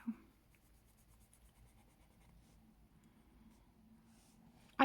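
Faint, soft scratching of coloring pencils on paper in a quiet room, ending with a sharp knock.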